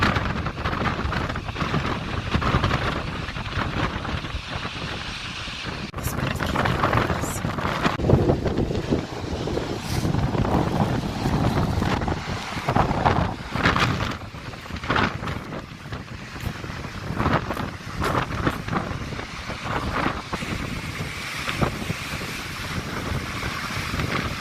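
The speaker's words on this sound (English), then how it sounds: "which is a waterfall" A waterfall in Iceland roars as a steady, dense wash of rushing water, with gusts of wind buffeting the microphone throughout.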